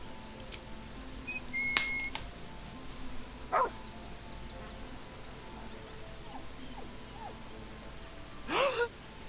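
Scratch, the dog in Baldur's Gate 3, gives a few short, separate barks and yips over a quiet ambient game background.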